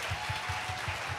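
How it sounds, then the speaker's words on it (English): Applause at a women's conference after a men's panel session, a steady, moderately loud wash of clapping with a faint rhythmic low thumping beneath it. "That definitely deserves a round of applause."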